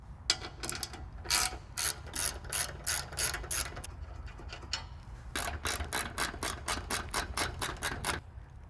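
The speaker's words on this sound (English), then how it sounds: "we're going to start off by removing these 4 13mm bolts" A ratchet wrench cranks rapidly in quick bursts of clicking pawl strokes, with a short pause midway, while backing out 13mm bolts from the front bumper area of a 2023+ vehicle during a skid plate install, close and clear with no talk.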